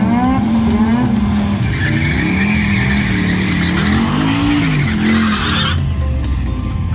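A Hyundai Getz drag car roars and revs hard nearby, tires squealing as it launches, with engine pitch sweeping up and down before cutting off.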